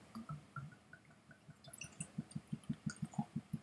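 Whisky, a blend of island malts from a bottle with a composite cork, glugs out in a quick, even run of soft liquid pulses that grows steadier and louder toward the end, close and quiet.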